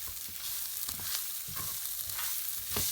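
Lentil curry paste sizzles in a pan while being stirred, a bright continuous frying hiss broken by repeated scraping strokes of a spoon every half second or so, close and moderately quiet, with no voices.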